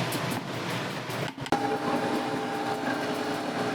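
Electric hand mixer whirring steadily through banana muffin batter of oil, sugar, banana and egg, a continuous close buzz that dips briefly and then resumes.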